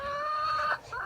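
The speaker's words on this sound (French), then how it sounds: "C'est ma poule." A pet hen clucks close by in a drawn-out, tonal call that wavers and briefly dips near the end, with no other sounds competing.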